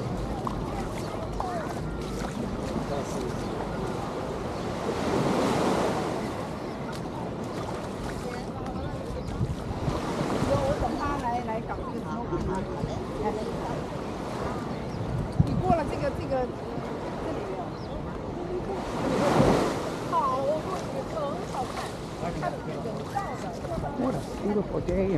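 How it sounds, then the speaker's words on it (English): Surf washes in at Waikiki Beach, Hawaii, as a constant wash, with swells of wave noise rising every few seconds. Wind buffets the microphone, and people talk in the background throughout. "Beautiful day in Waikiki Beach."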